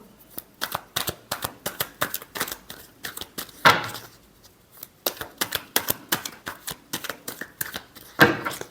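A deck of tarot cards is shuffled by hand. Close, crisp riffling comes in quick repeated bursts with short pauses between them, and no talking is heard.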